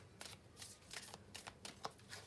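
Soft riffling tarot card shuffles, a few quick bursts of papery flutter close by, repeated in short rhythmic runs with no talking.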